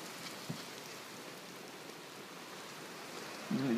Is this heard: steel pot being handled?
no